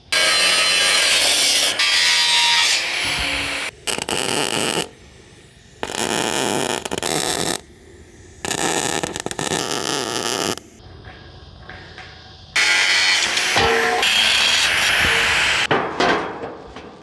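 Cutting through the welded steel frame of a tiny home wall to trim off extra length, loud harsh bursts of grinding or sawing in several separate passes with short quiet gaps between them.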